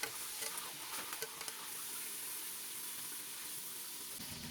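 Beef shanks fry in a pan with a steady sizzle and a bright hiss throughout, a few light clinks near the start, no voices.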